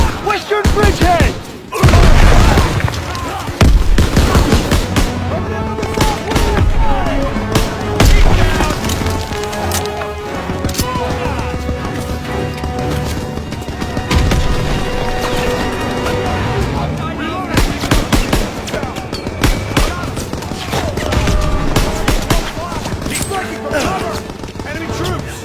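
Constant gunfire and heavy explosions fill a Call of Duty WWII battle in the Hürtgen Forest, loud and dense throughout, with shouted voices mixed in under the combat.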